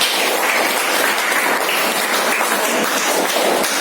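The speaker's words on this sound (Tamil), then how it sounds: "கைத்தட்டலாம்" Steady, dense audience clapping at a motivational class, loud and close, continuing evenly throughout without any speech.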